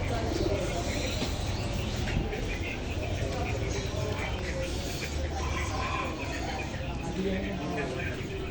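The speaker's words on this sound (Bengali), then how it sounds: "বিভিন্ন প্রজাতির কবুতর" Many pigeon breeds coo and birds chirp in a busy, crowded bird market while people talk nearby.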